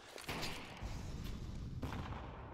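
Dense bursts of gunfire fill Counter-Strike on the Dust2 map during a professional tournament match, with a rapid spray of shots sounding loud and continuous, rising in booming waves across the whole stretch.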